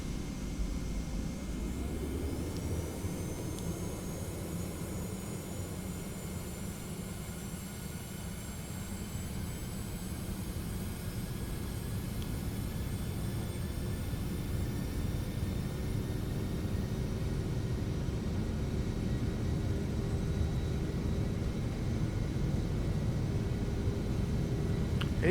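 In a flight simulator game, an airliner's jet engines spool up for takeoff from Hartford, making a steady low roar with a rising whine that builds gradually and continues unbroken with no voices.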